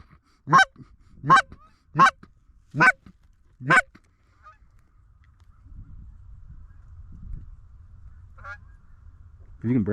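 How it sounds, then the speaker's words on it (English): Geese honk five times in a quick, evenly spaced series over a freshly cut field during a hunt, loud and close, then quiet rustling follows before fainter honks return near the end. "There's birds coming."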